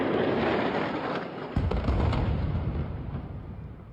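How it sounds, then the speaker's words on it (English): Bombardment in Khan Yunis in southern Gaza booms as a heavy, continuous roar of distant explosions, with a sharper blast about midway through, rumbling without any voices. "Explosions ring out in Khan Yunis."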